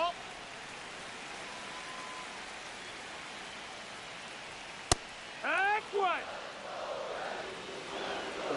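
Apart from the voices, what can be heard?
rain getting harder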